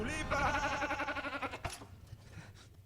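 A goat character in the movie Wicked lets out a long, wavering bleat at moderate loudness, then breaks off into quieter rustling and faint background sounds.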